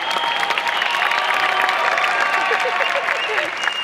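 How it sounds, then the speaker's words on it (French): A crowd at a padel exhibition event applauds continuously, a steady wash of clapping with some cheering, while a nearby voice and background chatter carry on over it. "si on peut les applaudir une fois de plus quand même"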